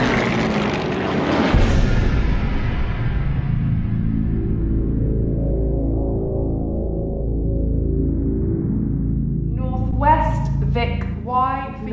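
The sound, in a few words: WWII bomber formation aircraft engines, Battle of Britain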